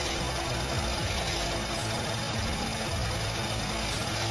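An Audi Q5 engine, previously flood-damaged, idles close by with a constant, busy mechanical rattle from a likely failing tensioner or idler pulley, layered over its steady hum.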